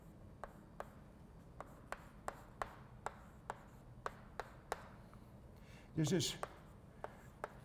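Marker or chalk strokes on a board during a quantum chemistry lecture, a regular series of short scratchy taps and squeaks about every half second with one longer rubbing stroke, heard close under brief speech.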